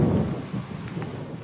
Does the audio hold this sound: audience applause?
no